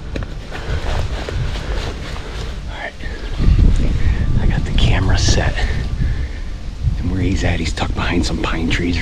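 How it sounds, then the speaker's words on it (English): Gusty wind buffets the microphone outdoors in the woods during a spot-and-stalk deer hunt in Michigan, with a continuous rough roar, stronger surges and some quiet voice sounds mixed in. "The wind is perfect, blowing away."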